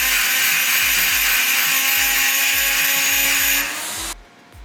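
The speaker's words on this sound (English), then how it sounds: "when you put it onto the load and start cutting, then it creates a lot more noise" A Makita GD0601 die grinder cutting under load, a loud, steady high-pitched whine with a rhythmic pulsing chatter underneath, then the pitch drops and the noise fades as the tool eases off.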